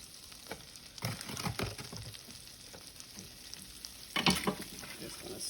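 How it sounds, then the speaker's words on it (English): Butter and flour roux cooking in a pan while being stirred, with a soft steady sizzle underneath and scraping stir strokes that come and go, including a louder scrape near the end. "We're gonna let this flour cook till it's a nice brown color."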